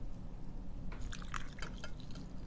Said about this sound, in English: I would pour that and then top it with the Prosecco